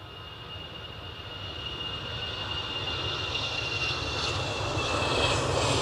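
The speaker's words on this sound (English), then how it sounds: "EasyJet rolling." An EasyJet airliner starts its takeoff roll at Edinburgh Airport, a steady jet engine roar with a high whine that slowly builds in loudness over several seconds, heard from a fair distance with no voices.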